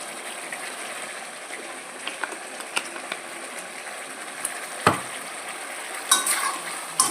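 Paneer biryani is stirred in a pot in a soft, crackling, scraping stir with a low sizzle underneath, marked by a few louder clunks and knocks of the spoon against the pot, without speech.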